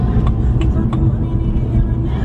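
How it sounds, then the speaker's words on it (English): Road traffic heard from inside a moving car: a continuous low rumble of engine and tire noise fills the cabin, with a few faint higher ticks and no clear voices. "there's a lot of traffic here"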